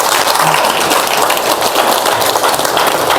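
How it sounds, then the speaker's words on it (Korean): Dense crowd applause from a lecture audience, loud and continuous for a few seconds with no voices over it. "박수 한번 치십시오"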